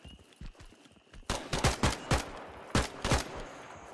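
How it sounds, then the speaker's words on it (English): Gunfire in the shooter game Escape from Tarkov on the Red River map, starting with a few sparse shots and then sharp rapid bursts of automatic fire, loud and close, with no talk. "He's shooting enemies."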